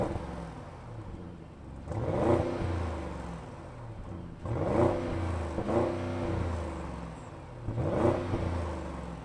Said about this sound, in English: now it's time, therefore, to rev it up